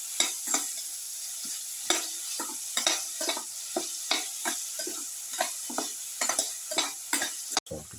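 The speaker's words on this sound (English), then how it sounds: "Keep on sauteing." Winter melon and carrot sautéing with cumin seed in a pan, a steady sizzle broken by regular scrapes and clacks of a spatula stirring the pieces, close and fairly even throughout, no talking.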